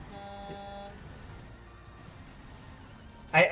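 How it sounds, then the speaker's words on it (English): A truck horn honks in American Truck Simulator, first as a sustained tone early on and then as a sudden loud blast near the end, over low engine rumble. "I actually got honked at."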